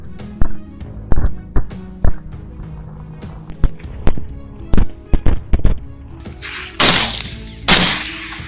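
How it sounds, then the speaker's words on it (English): Gunshots fired from a helicopter at wild hogs give sharp, separate cracks at irregular intervals. Two longer, brighter bursts come near the end over a low mechanical drone. "Gunshots echoed non-stop, but landing accurate shots was tough."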